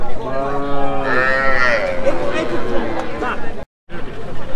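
Several cattle moo loudly and close at a crowded rural livestock market ahead of Eid sacrifice, long drawn calls overlapping amid a babble of people talking.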